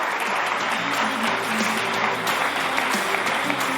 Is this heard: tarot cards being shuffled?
no